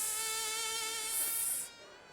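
A mosquito buzzing sound effect plays on a French TV game show, a thin, steady, close whine that holds for about two seconds and then drops away.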